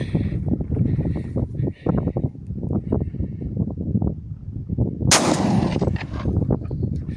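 A Breda Echo shotgun fires a single loud, close shot amid constant heavy rumble of strong wind buffeting the microphone, the blast a sharp broadband crack trailing off over a second or so.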